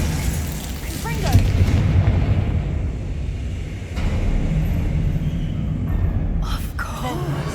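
Confringo fire-spell blasts in the video game Hogwarts Legacy make a couple of deep, muffled booms with rolling rumble between them, over a busy, fairly loud background.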